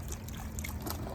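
Hot water is poured onto the soil of a container-grown fruit tree, giving a soft, faint trickle and splash that runs steadily for a moment without any talking.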